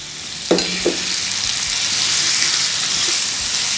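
Chopped onion drops into a pan of garlic already frying golden in hot oil for Maharashtrian pithla or zunka, setting off a loud, steady sizzle that swells after a couple of sharp splashes and continues alone.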